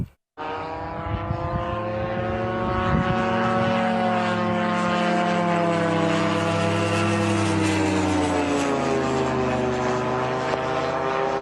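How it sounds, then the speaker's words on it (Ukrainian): A long-range attack drone in flight, its propeller engine droning loud and steady from start to finish, with many layered harmonic tones that glide slowly in pitch as it passes. "Цей дрон, як і десяток його товаришів, пролетів не одну тисячу кілометрів."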